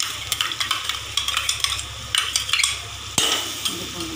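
Tomato and ginger-garlic masala fry in a pan for mutton curry, a close, bright sizzle with rhythmic stirring scrapes and a sharp pan knock near the end.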